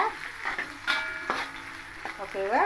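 Onions, cinnamon and chillies fry in oil for a vegetarian fish ball sambal, giving a soft, steady sizzle. A few clinks and a faint tonal sound sit on top, and the frying stays fairly quiet and close.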